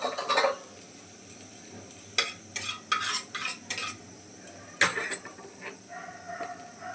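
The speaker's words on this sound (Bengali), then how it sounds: "ঘিটা দিয়ে পনিরটাকে আমি টস করে নেবো" Homemade paneer tossed in ghee in a pan brings a run of sharp metal clinks and scrapes from a spatula against the pan, in irregular bursts over a light sizzle, with no talk.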